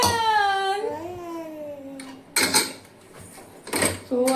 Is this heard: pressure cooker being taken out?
yes